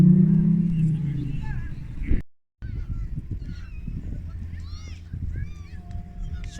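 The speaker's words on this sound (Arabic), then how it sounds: "شوف هاد الطيور كاع ما كيهربوا والفين، قريبه ليهم" Geese and gulls by the seaside at Blackpool North call repeatedly with honking and squawking cries, some close and some farther off, over a steady outdoor murmur and faint water background.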